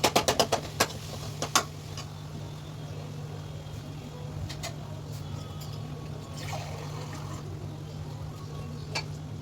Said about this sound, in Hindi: आधा गिलास से थोड़ा ज़्यादा पानी ऐड किया है मैंने